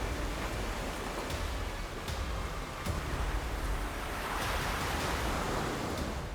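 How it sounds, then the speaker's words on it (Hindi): High waves roll on the Arabian Sea in a continuous broad wash of surf and wind noise, fairly loud with slight swells, and no one speaks. "लहरें कितने ऊपर आ रही हैं और कितने नीचे जा रही हैं"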